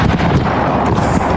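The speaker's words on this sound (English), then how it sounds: "a large explosion rocked the scene as the fire reached a new section of fireworks" A massive explosion as a fire at a fireworks factory reaches a fresh stock of fireworks, a loud, sustained deep rumbling roar that fills the whole moment, captured from a distance.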